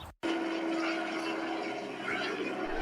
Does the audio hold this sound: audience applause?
no